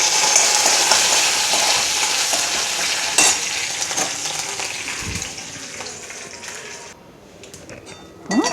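Urad dal and curry leaves sizzle in hot oil for tempering a broad beans kootu, a loud, steady crackling fry close by that eases slightly toward the end, with a brief clatter of stirring.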